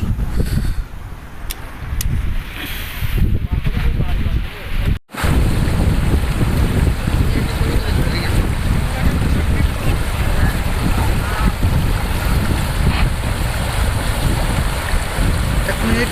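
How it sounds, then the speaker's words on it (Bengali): River water rushing over the stones at Sada Pathor, surrounded by hills, as a loud, steady broadband roar mixed with wind buffeting the microphone, with a brief dropout partway through. "পানির শব্দ শুনুন"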